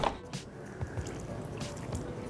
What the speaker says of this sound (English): all you're doing is adding water